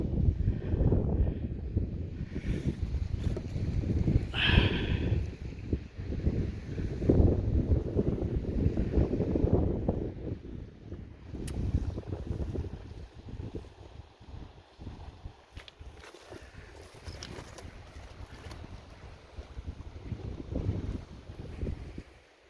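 Strong winter wind gusts buffet the microphone along a cold coastline, a loud, continuous rumbling roar that swells and eases in waves with no voices.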